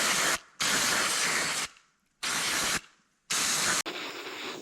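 Brake cleaner sprayed onto an open differential in loud hissing bursts, four long sprays separated by short pauses, close and alone.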